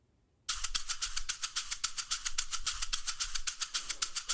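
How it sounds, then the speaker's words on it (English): A maraca is shaken in a fast, even rhythm, close and crisp, with bright rattling pulses beginning after a short silence and continuing steadily to the end. "that sound is coming from a maraca."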